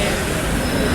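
At a railway station on an Erode to Chennai route, a train rumbles close by with loud, continuous grinding and screeching of wheels on rails, a dense roar that fills the whole moment.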